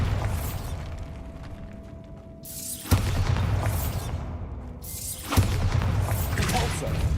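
Two sharp Bombarda spell blasts go off in Hogwarts Legacy, each a sudden booming burst about two and a half seconds apart, set against a continuous bed of game ambience and music.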